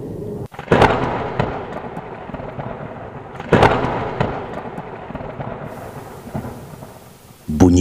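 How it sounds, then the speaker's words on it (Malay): Thunder from a lightning storm overhead booms in two heavy cracks that roll away into a long rumble, with steady rain-like noise throughout and no voices. "Bunyi kilat petir di atas langit sehingga bergegar bumbung kereta."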